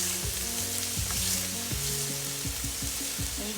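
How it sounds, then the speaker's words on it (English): Onions fry in a pot over medium heat, giving a loud, constant hiss and crackle that continues without pause, with engine-like tonal hum layered underneath and no voices. "And you're just going to cook these onions for about 5 minutes or until soft and translucent."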